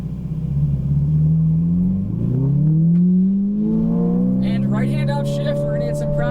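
A Ferrari 458 Italia engine on a track swells and climbs in pitch as the car pulls away, a strong rising note that stays loud and close throughout.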